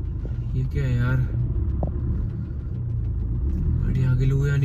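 A car engine runs with a steady low rumble throughout, under someone speaking Hindi nearby.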